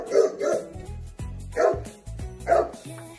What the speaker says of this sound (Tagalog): Ito yung aso ni Boss.